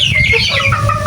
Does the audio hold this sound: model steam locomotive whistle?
no